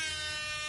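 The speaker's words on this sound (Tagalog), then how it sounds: "Tingnan po natin tong air horn." A meme-style air horn sound effect blares as one sustained, loud, brassy blast lasting under a second.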